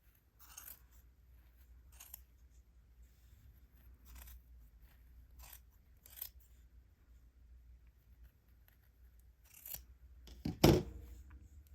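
Scissors trimming yarn strands of a hat pom pom, with faint, close snips repeating at irregular intervals in a quiet room and one louder cut near the end.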